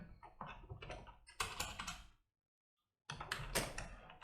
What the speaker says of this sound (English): Then come to your terminal again and type the command